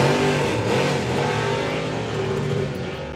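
A doorslammer drag racing car engine roars loud and steady at a drag strip, the throttle rising and easing in a sustained, rough mechanical drone.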